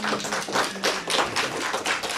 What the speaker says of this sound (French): une jeune fille de 9 ans qui se présente à vous comme ça et qui nous joue un joli morceau de piano, ça mérite des applaudissements